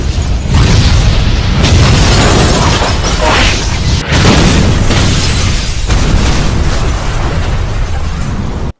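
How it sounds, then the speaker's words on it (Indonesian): A loud, sustained gas cylinder explosion roars in a film, with booming bursts and crackling debris, rumbling continuously for several seconds. "tewas oleh sebuah ledakan yang berasal dari tabung gas"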